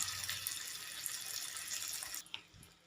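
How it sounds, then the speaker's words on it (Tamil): A fried egg for Tamil muttai aviyal sizzles in hot oil in a pan, giving a steady, close, hissing crackle that cuts off near the end and leaves a couple of faint knocks. "இப்போ முட்டை இந்த எண்ணெயில் நல்லா பொரிஞ்சு வரட்டும்."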